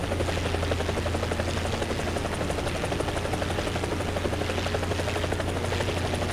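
A helicopter in the War Thunder video game gives a continuous, loud rotor thrum with a steady throbbing pulse and engine whine throughout, with no other sounds over it.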